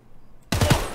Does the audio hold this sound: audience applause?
no